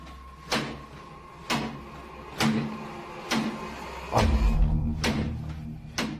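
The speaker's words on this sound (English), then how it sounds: "The culprit in the kitchen cupboard, whose door is banging over and over again" A kitchen cupboard door bangs again and again, about six sharp knocks spaced roughly a second apart, loud and close in a quiet room with a low hum underneath.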